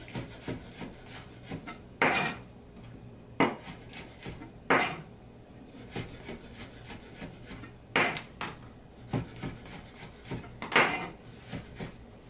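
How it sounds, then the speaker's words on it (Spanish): Knife slicing mushrooms on a wooden board for white bean soup, with several distinct chopping strokes at irregular intervals, each a short rasping cut against the wood, close and clear with no talking. "Cuando va para abajo, se empuja para adelante para cortar."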